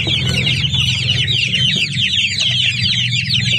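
Chicks and grown chickens cluck and cheep steadily while being fed, a dense, continuous flock chorus close by with high peeping over lower clucks.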